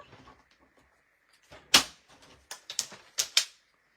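Several crisp, sharp cuts through paper with a paper cutter, a few quick snips close by in a short uneven burst, preceded by soft quiet rustling.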